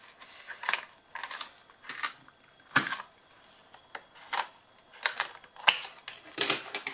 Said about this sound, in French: faire avec la perforeuse d'angle